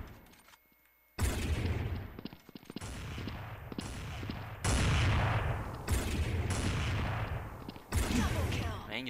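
Repeated bursts of sniper game gunfire, loud and close, with several sharp volleys and booming impacts spread across the stretch after a brief quiet opening.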